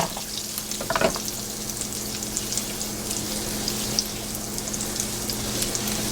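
Butter and extra virgin olive oil fry in a hot pan with a steady, crackling sizzle, close and fairly loud, with a brief clatter near the start and no voices.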